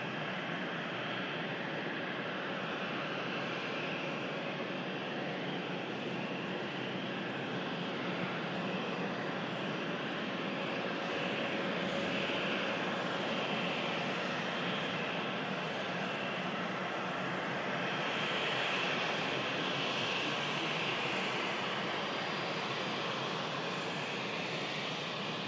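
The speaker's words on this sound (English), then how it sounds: "Air France E190 long range is going to be the next aircraft that we see on the live. It's about to taxi out." An Air France Embraer E190 jet taxiing at Manchester Airport, a steady, even engine roar that holds at moderate distance for the whole stretch with no voices.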